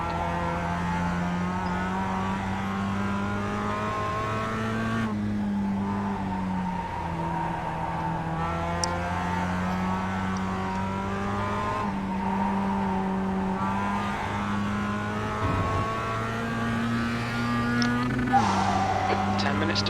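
A Mazda MX-5 race car in the iRacing sim at Lime Rock Park drones steadily at high revs, the engine note dropping and climbing again through gear changes and corners, with brief tyre squeal.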